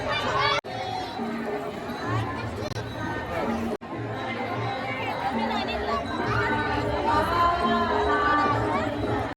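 A dense crowd packed inside a temple during a village fair, continuous loud babble of many voices close around, with people talking nearby throughout.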